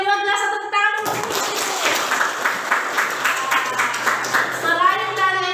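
Classroom applause from a group of students, a burst of many hands clapping steadily for several seconds, close and loud, framed by brief talk at the start and end.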